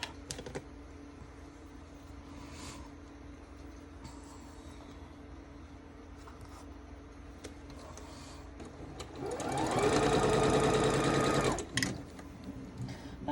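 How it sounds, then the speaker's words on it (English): A sewing machine stitching a quilt, with quiet handling and light tapping at first, then a fast, loud run of stitching for about two seconds near the end before it stops. "using a sewing machine"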